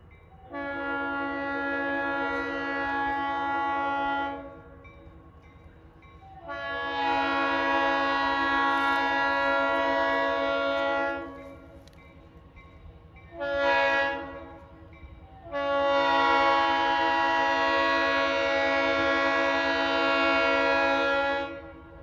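An RS3L diesel locomotive, number 501, sounds its horn in four blasts, three long and one short, loud and close, over a low engine rumble as the train passes.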